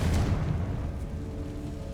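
Confringo spell in Hogwarts Legacy setting off a booming explosion, one loud burst at the start that fades into a low rumbling tail.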